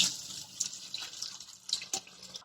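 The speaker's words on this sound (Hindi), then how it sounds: "अब हम इसे एक और बार ड्रेन कर रहे हैं।" Tap-rinsed noodles for Maggi draining, water trickling and splashing in a sink in short uneven bursts, close and moderately loud, no voices.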